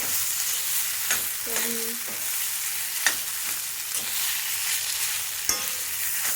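Salted grated green papaya stirred in a pan over a high flame for a bharta: a continuous soft sizzle broken by several sharp scraping strokes, close and alone with no talk.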